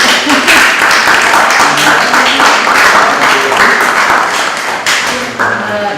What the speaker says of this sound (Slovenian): mislim, da se zasluži en aplavz